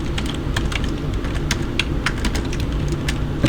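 Someone types on a computer keyboard, erasing code in the Code::Blocks editor, with irregular clicks and occasional sharper key taps over a steady low hum and no speech.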